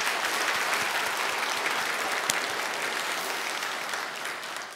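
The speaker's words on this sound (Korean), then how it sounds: "귀한 찬양 우리 하나님 앞에 박수 영광 함께 올리겠습니다" Church congregation applauding after a special hymn during Sunday worship, a dense, even wash of many hands clapping at moderate distance, steady throughout with no voices on top.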